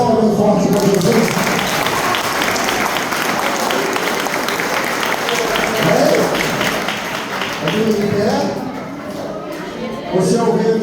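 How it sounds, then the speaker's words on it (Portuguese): A church congregation claps hard and rhythmically for an anniversary service, loud and continuous, with voices heard over the clapping. "As palmas bem forte para Jesus."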